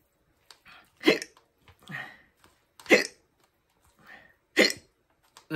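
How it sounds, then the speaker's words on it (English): Hiccups after eating extra-spicy Buldak instant noodles: three sharp, loud hiccups spaced about two seconds apart, with softer breaths and small vocal noises in between. "Hiccups are already kicking in."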